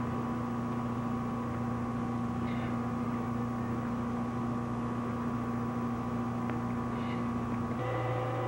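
The 14,000-horsepower engine of the Great Lakes freighter Stewart J Cort drones steadily at full speed, a constant loud hum with tonal whine filling the whole stretch without break.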